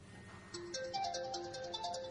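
A mobile phone ringtone plays a short melodic sequence of tones, moderately loud and alone over faint background noise.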